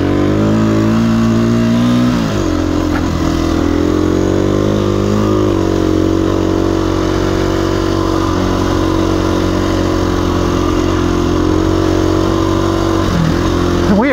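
A KTM 350 EXC-F dual sport motorcycle rides a remote forest trail, its engine droning loud and close throughout with steady revving and brief shifts in pitch, and no voices.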